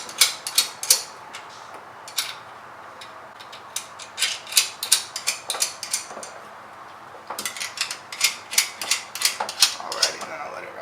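Coilover bolts on a 2022 Toyota GR86 are lightly tightened, producing rapid runs of small metallic ratchet clicks in bursts, fairly close, over a faint background.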